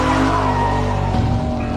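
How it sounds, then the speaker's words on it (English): BMW M3 in a power slide, a loud, sustained engine drone with tires skidding and squealing continuously, the pitch shifting slightly near the end. "all we're doing is power slides"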